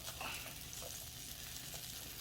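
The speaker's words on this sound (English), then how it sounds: "I am putting butter all over the griddle" Butter sizzles on a hot griddle, a quiet, steady crackle and hiss with faint scraping or stirring sounds layered over it.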